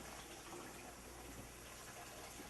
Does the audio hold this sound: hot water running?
yes